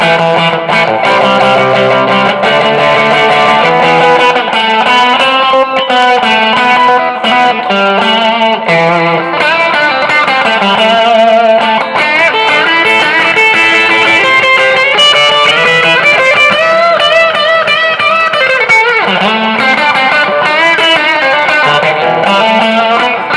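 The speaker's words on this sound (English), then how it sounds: "let's throw some effects on this and some distortion and a little overdrive or something." An electric guitar, a Stratocaster converted to Telecaster style, plays continuously through effects with distortion and overdrive, a loud, dense, sustained tone over more than twenty seconds.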